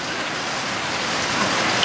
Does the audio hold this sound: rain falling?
yes